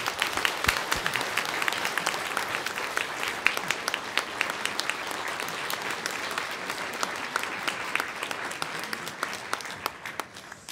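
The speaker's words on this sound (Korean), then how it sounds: "박수로." A church congregation applauds during a Presbyterian pastor's installation service, a steady, dense round of clapping filling the hall for about ten seconds at an even level.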